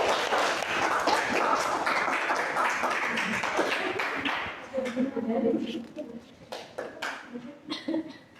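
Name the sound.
applause for group 2 in a classroom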